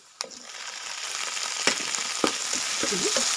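Tomatoes frying in a pan for paneer masala, a rising steady sizzle broken by sharp clacks and scrapes of a spoon stirring, no one speaking.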